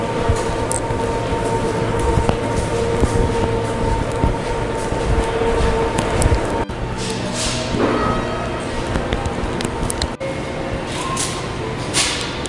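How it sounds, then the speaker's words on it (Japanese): A Hokuriku Shinkansen train passes through Ueda in Nagano Prefecture, a steady rushing rail rumble heard from a distance that lasts through the whole stretch, with faint ambient noise and no talk. "現在の北陸新幹線が走っております"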